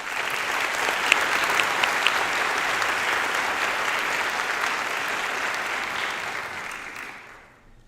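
Sustained, dense applause from an awards ceremony audience greets a string quartet, holding strong for several seconds before tapering off to silence.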